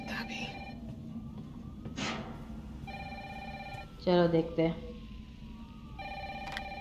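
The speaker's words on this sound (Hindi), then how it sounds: "किसी का फोन आ रहा है" A telephone rings in a horror-style video game set in an infected town, with repeated electronic ring bursts coming and going between stretches of quiet; a person talks briefly partway through.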